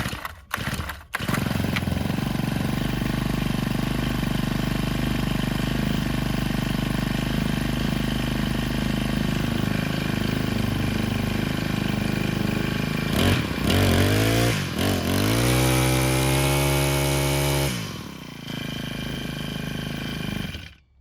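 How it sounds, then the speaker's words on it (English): A straight-gas weedeater engine fires up and runs on its own, a loud, close, buzzing two-stroke drone that holds steady for a long stretch, then briefly sputters and revs with a rising pitch before settling again. "Let's see if we can get it to start."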